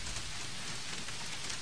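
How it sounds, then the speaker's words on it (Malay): Steady rain falls continuously in a dense, even wash of drops striking surfaces, close and moderately loud with no pauses and no voices. "Nampaknya hujan tak berhenti ni, Wak."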